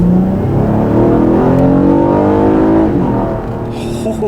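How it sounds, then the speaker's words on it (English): A 2016 Acura TLX in sport mode accelerates hard up a highway on-ramp, its engine note rising steadily and loud inside the cabin for several seconds, then easing as it shifts near the end. "All right, gotta merge onto the highway. Let's check how quick it gets up to speed."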